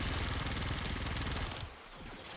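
Secura Dual Cestra dual pistols in the video game Warframe fire in a rapid, even stream of shots, loud and close, then the burst cuts off and quieter game noise follows.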